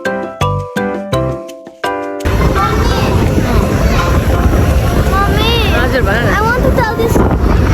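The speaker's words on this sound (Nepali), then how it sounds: "यहाँ चाहिँ एकदम विन्डी भएर हावा चलिरहेछ" Strong wind blows near the opera house in Zhuhai, China, roaring steadily and buffeting the microphone after a few short, clipped tonal bursts at the start.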